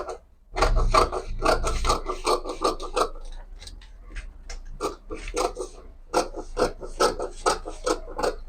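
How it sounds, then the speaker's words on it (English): Scissors cut out a dart in corset fabric for an underbust corset dress, giving a steady run of close, crisp rasping snips in rhythmic bursts with a brief pause midway. "So, and then I'll be cutting out the dart now."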